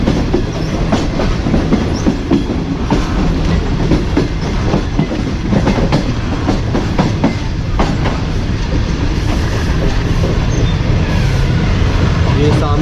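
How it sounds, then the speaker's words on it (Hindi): A Tezgam passenger train pulls away from Okara, heard from on board with a steady, close rumble and a continuous clickety-clack of wheels over rail joints that runs the whole time. "ये सामने ओकाड़ा शहर जिसे ट्रेन अलविदा कह रही है।"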